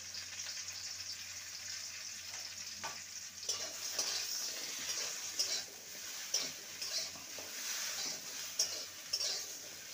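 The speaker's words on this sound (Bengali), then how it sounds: "এবার ওই তেলে ভেন্ডিকে ভেজে নেব। সামান্য লবণ দেব।" Okra frying in hot oil with a pinch of salt, a steady close sizzle with crackling pops and faint stirring clicks, no voices.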